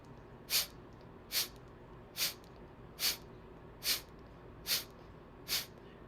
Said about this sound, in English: we're going to breathe in and start panting through our nose